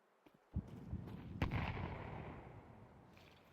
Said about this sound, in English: Grenades over the top.